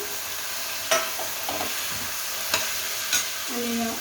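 Vegetables tossed into hot oil for a mixed vegetable dish, with a steady sizzle and a few scraping stirs of a spoon against the pan, close and moderately loud, no voices.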